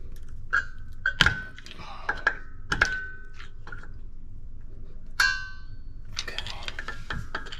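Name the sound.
parking brake adjuster clicking through detents, 2008 Acura MDX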